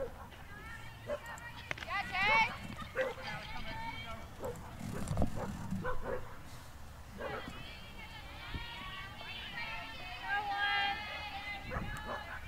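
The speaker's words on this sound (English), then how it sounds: "And Noah's bark at the park" A dog barks in short bursts at a college softball park between North Greenville and Anderson, heard among crowd babble and voices in the stands.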